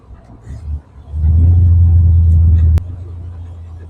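A 1986 Caterham Super 7 sports car drives along a little country road, its engine giving a loud, steady low drone that swells, holds, then drops off abruptly.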